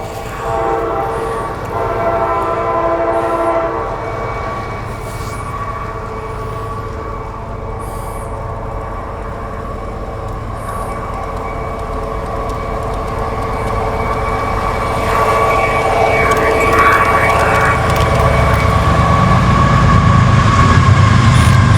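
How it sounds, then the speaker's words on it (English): A train rumbles past with a steady roar and sustained horn-like tones, growing louder toward the end as it nears. "We're about to have a real train come by now too."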